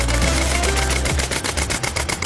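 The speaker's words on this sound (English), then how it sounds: "we're gonna commence firing in 3, 2, 1, fire" Automatic PCP air rifle fired on a shooting range, a loud rapid burst of evenly spaced shots in a steady machine-gun-like rhythm over a heavy low rumble.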